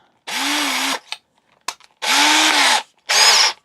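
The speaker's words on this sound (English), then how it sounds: "I am using one of these drill bits" A power drill bores a hole through a block of wood on a DIY crate build, in three loud sustained runs of about a second each, separated by short pauses with faint clicks and knocks.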